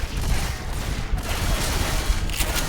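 Rapid gunfire from weapons in the Left 4 Dead video game, a dense, continuous rattle of overlapping shots that stays loud and steady throughout, with no voices over it.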